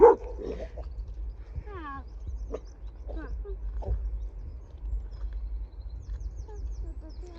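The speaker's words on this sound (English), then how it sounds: "There'll be plenty of dogs barking at a show, so it's good training." Dogs bark, yip and whimper a few times at moderate distance over a low background hum, with a short burst of voice at the start, during show ring handling practice with distraction training.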